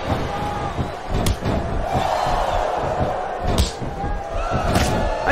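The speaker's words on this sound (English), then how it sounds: "Now the fans start to cheer for him." Crowd noise in the wrestling video game WWE SmackDown vs Raw 2007 holds as a steady roar of cheering, punctuated by several sharp slams and thuds from the ring.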